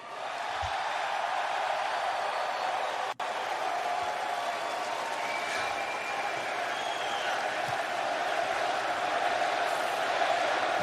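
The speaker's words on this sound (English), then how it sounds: "Oh, they're chanting Fuego." A wrestling crowd fills an arena with steady, dense noise, chanting Fuego in unison, a continuous loud roar with occasional whoops and claps throughout, broken briefly by a short dropout.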